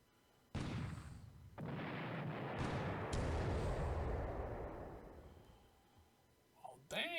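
Coastal defense guns firing in a WWII Pacific strategy game set at Moulmein in 1942, heavy booming blasts that roll into a long, loud rumbling wash of explosions lasting several seconds before fading, with a few sharp reports near the end.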